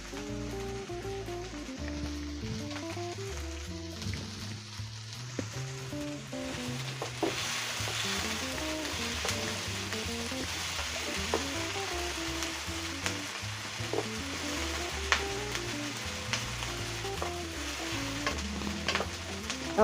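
Mushrooms frying in oil in a pan, a steady close sizzle and crackle with occasional stirring clatter, running the whole time with no talk.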